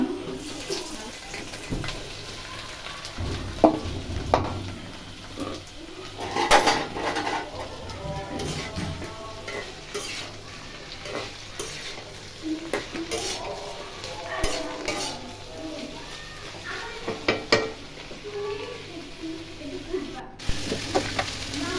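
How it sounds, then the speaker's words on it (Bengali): Okra frying in a generous amount of hot oil, a steady close sizzle with stirring scrapes and clinks throughout, with faint birdsong in the background. "এই যে এখন ঢেঁড়স ভাজি করব। তেল দিয়ে দিচ্ছি গরম"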